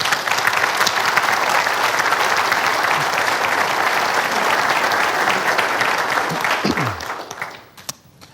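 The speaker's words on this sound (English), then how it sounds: "So let's give them a big round of applause" An audience at a State of the City address applauds steadily and fairly loudly for several seconds, then the clapping tapers off and fades into quiet.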